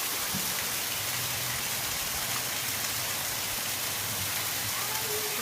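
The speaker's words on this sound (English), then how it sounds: "Look at how hard it's raining out here." Hard rain falls outside onto a deck and patio, a steady close wash of dense hiss that holds even throughout, with no voices over it.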